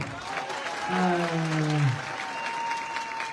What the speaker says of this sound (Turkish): E o zaman başkanım bir alkış daha hak etti mi?